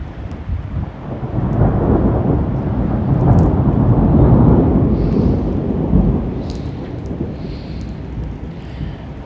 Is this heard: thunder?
yes